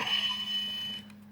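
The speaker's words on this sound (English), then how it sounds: "We get some shing noise, and his eyes actually glow green." Electronic sound effect from a Transformers Cybertron Starscream figure, a bright sustained buzzing electronic tone, loud and steady, then fading slightly near the end.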